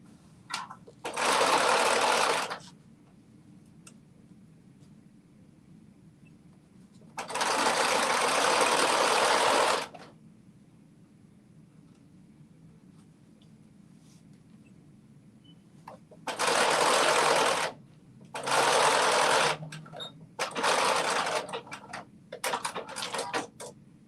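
A sewing machine stitches the leg of a pair of pants in loud, steady bursts of rapid whirring. Several runs of a few seconds each are separated by quiet pauses, and the last runs come in quicker, shorter spurts.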